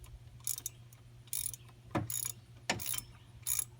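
Ratchet turning 13mm bolts on a power steering pump, reached through holes in the pulley. Quiet bursts of clicking repeat in a loose rhythm, broken by a few dull knocks, close by with no talking.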